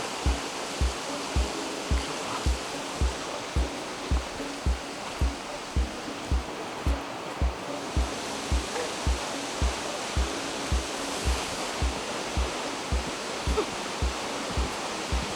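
A waterfall on a jungle hike near Boquete, Panama, heard as a steady broadband rush of falling water, with soft regular thumps of footsteps running through it and no talk.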